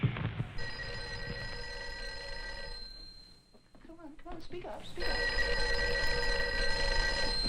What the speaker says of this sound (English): Phone's ringing. It should be answered.